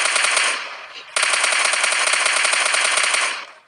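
Automatic gunfire in the PUBG Lite video game comes as loud, rapid bursts, a short burst and then a longer sustained stream of shots, up close.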